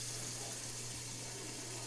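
Water pouring steadily into a pot for boiling salt potatoes, a continuous rushing splash over a low hum, with no talking.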